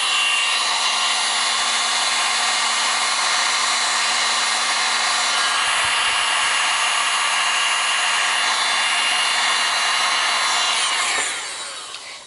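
A heat gun blows hot air over heat shrink tubing on a freshly soldered wire joint, giving a loud, steady whooshing roar that runs unbroken for about eleven seconds before starting to taper off at the end.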